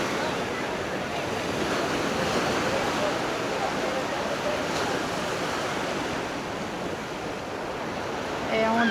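Surf rolling onto a lifeguarded public beach in Malaga, a steady broad wash of breaking waves mixed with wind buffeting the microphone, continuous and fairly loud throughout.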